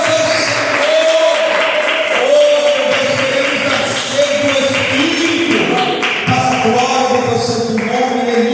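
A church congregation at a morning service claps together with a busy tapping patter of many hands, fairly loud and close, while sustained music tones carry on underneath.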